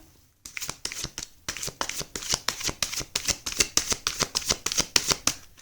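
Tarot cards are shuffled close by in a fast, even run of crisp riffling bursts that goes on for several seconds.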